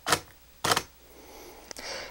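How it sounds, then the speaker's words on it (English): Mechanical camera shutter with electronic front curtain off, two sharp clicks about half a second apart marking a half-second exposure, then a fainter click and whir of the mechanism resetting, close and without talk. "you can hear the shutter sound twice"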